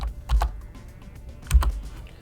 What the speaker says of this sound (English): But if you start typing your customer name,